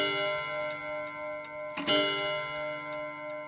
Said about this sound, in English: I like the melody of all 4 hammers hitting at once.